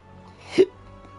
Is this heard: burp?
yes